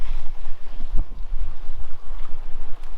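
Sailboat underway through a narrow passage between Fyn and the small island of Romsø off Denmark, sailed single-handed at about 5.5 knots against the current: a steady whoosh of wind and water washing past the hull, with low buffeting rumble throughout.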